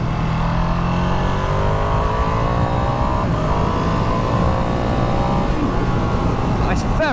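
A 2022 Ducati Streetfighter V2 motorcycle revs up under acceleration, its engine note climbing steadily and loud throughout, with rising harmonic sweeps and wind rush close by.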